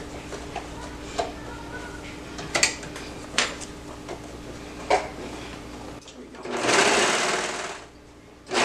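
A sewing machine runs continuously while stitching a romper sleeve, a close mechanical whir with periodic clicks and a louder rush near the end, while someone talks over it.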